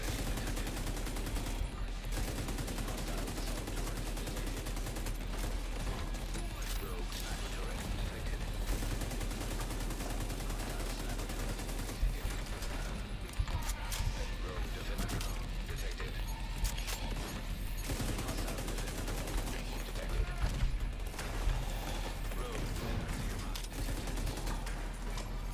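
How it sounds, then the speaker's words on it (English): Steady, continuous gunfire from The Division 2 shooter, sustained bursts layered with dense battle noise filling the whole stretch, loud and close, with a voice talking over parts of it. "I'm just shooting at these yellow dots, hoping I'm hitting them"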